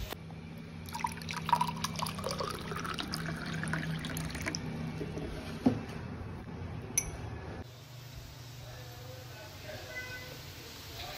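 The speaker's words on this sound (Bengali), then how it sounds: "একটু জল খাবো।" Water is poured at home, a steady trickling fill for several seconds with a faint clink, then quieter sounds as it is drunk, all close by in a quiet room.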